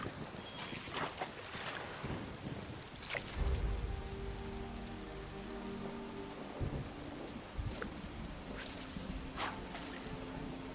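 Steady rain and rolling thunder from a thunderstorm machine in the video game Fallout 76, a dense hiss of rainfall with thunder cracks and low rumbles rising and fading over it, no voices.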